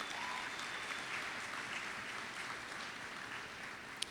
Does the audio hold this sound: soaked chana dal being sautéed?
no